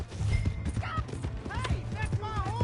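Horse hooves clip-clopping in the Red Dead Redemption video game, uneven galloping beats under a steady low rumble with game voices and music calls over them.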